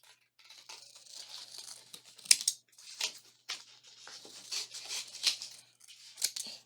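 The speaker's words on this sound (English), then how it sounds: "now I'm going to cut the centers out" Scissors snip through paper while cutting out paper shapes, making a series of close, crisp cuts in an irregular rhythm with faint crinkling, and no talking.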